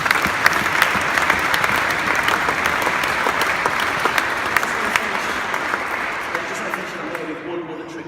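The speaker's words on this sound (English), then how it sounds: "Give yourself a big round of applause." A crowd at a comedy magic show for The Prince's Trust gives sustained, full applause that fades slightly toward the end, with a voice faintly over it.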